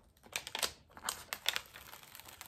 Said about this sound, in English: while I'm taking this white sticker off